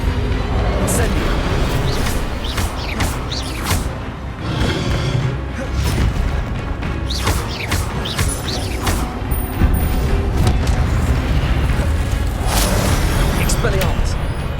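Spell-casting effects from the Hogwarts video game, with bursts, booms and whooshes of a fire spell layered over dense game sound, under a voice speaking throughout.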